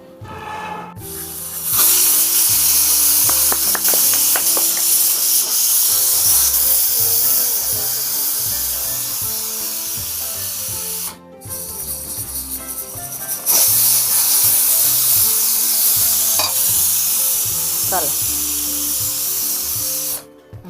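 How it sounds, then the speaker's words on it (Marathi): Pressure cooker whistle on a small village-style stove while mini chicken biryani cooks: a loud, sustained broadband hiss and whistle running almost continuously, with one brief break near the middle before resuming. "होता आपला तिसऱ्या सिट्टीचा आवाज"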